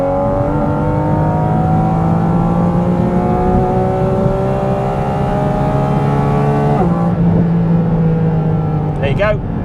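A Porsche 718 Cayman GT4 RS flat-six revs loudly and continuously, climbing steadily toward 9,000 RPM at half throttle, with a brief dip and re-rise before it cuts off near the end.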